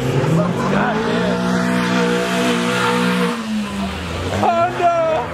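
A Honda Civic VTEC engine revs hard at a car meet, pitch climbing and falling in rising sweeps, with tires squealing and excited people shouting nearby.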